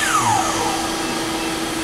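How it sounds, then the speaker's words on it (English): An automated iVac dust collection system starts up with a woodworking shop machine, a loud steady whooshing roar of suction with a falling whine as the motor spins up. "You're simply gonna turn this on and the dust collection system will automatically come on."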